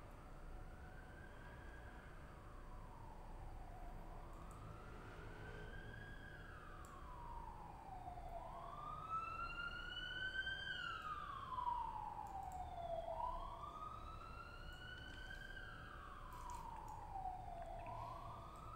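An ambulance siren wails outside in slow, repeated rising and falling sweeps, faint and distant, growing a little louder midway over a steady low background hum.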